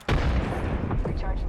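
A frag grenade blast in a shooter video game lands as a sudden loud boom with a long rumbling tail, surrounded by ongoing gunfire and battle noise.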